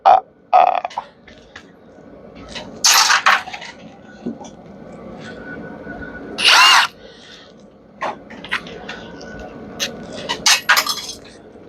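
A power drill backs screws out of a range hood, with several short, loud whirring bursts separated by pauses and scattered clicks and clinks of loose parts, close up.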